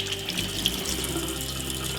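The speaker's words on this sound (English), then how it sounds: "Turn on the water," Water runs steadily from a sink tap into a basin, a continuous close rushing hiss with no talk.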